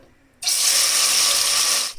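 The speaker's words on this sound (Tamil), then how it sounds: "நெய்யும் ஆயிலும் நல்லா ஹீட் ஆனதுக்கப்புறம் மேரினேஷன் பண்ணி வச்சுருந்த சிக்கனை சேர்த்துக்கலாம்" Marinated chicken dropped into hot oil and ghee in a pressure cooker bursts into a sudden loud sizzle after a quiet start, then holds as a strong, even hiss before easing at the end.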